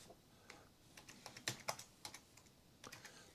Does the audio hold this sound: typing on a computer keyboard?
yes